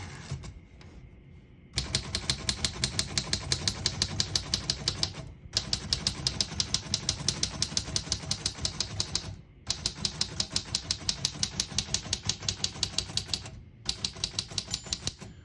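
Rapid, near keystrokes on a 1935 Royal O Model vintage portable typewriter clatter in three long bursts, separated by brief pauses, with sharp mechanical clacks.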